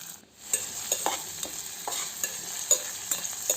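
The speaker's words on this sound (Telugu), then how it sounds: "దీన్ని ఆనియన్స్ బ్రౌనిష్ కలర్ వచ్చేంత ఫ్రై చేసుకుందాం." Onions frying with fennel seeds in a pan until browned, a soft close sizzle broken by repeated spoon stirs and scrapes, no voices.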